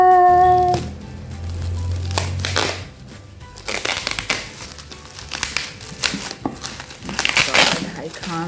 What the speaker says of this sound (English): I can't believe I'm going to unwrap this little book collection